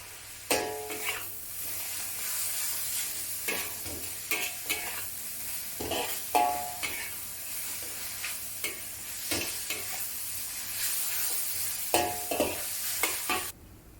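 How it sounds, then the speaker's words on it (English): Mushrooms and vegetables stir-fry in a wok for noodles under a steady, close hiss, broken by repeated spatula scrapes and clanks against the metal in an irregular rhythm. "When the mushrooms are tender, return the vegetables to the wok."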